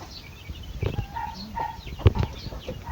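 A new mother hen clucks low and intermittently among her recently hatched chicks, with a few soft peeps and rustles close by outdoors.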